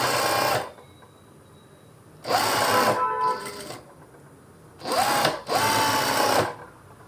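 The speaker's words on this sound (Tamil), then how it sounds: "இப்போ நான் வந்து இதை ஸ்டிச் பண்ணி எடுத்துக்க போகிறேன்." A sewing machine stitches a Christmas outfit in short loud bursts of whirring, with quiet pauses in between.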